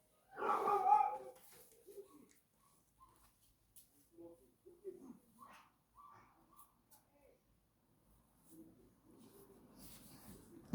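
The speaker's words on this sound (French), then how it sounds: "j'entends un chien aboyer" A neighbour's young dog barks upstairs in an apartment building, one loud close burst at the start followed by fainter scattered yips and whimpers, with quiet talk in between.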